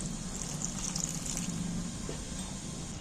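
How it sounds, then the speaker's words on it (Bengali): Rinse water from a mixer jar pours into a pan of yardlong beans cooking in spice paste, giving a steady, faint trickling that runs without a break and with no talk. "আরো একটু আমি মিক্সারের ধোয়া জলটাও দিয়ে দিচ্ছি আমি ওর মধ্যে"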